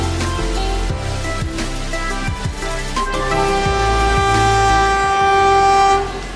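A train pulling into Nagapattinam station, loud and close, with a sustained rumble of rolling wagons, rhythmic clacks over rail joints and a long horn blast, the noise fading slightly at the end.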